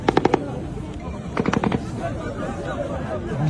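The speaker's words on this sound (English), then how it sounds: "The first video I'm going to show you is the actual gunfire" Gunfire during a Gaza aid distribution heard from a replayed news recording, rapid bursts of sharp shots in two clusters, fairly loud amid crowd noise, with people shouting and speaking over it.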